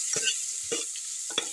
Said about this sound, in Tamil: இஞ்சி பூண்டு பேஸ்ட்டு போடலாங்க